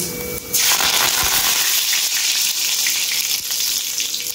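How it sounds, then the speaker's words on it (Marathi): Cumin seeds, followed by curry leaves, hit hot oil for paneer bhurji with a sudden loud burst, then a dense, steady crackle and spitting sizzle that carries on close up, with no talking. "जिरं टाकल्यानंतर जिरं छान असं तरतरलं पाहिजे, त्याच्यावर कढीपत्ता टाकून घ्यायचा"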